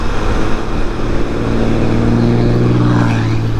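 Heavy trucks rumble past on a road on a warm day, a loud, steady low engine drone with tonal hum that holds throughout without a break.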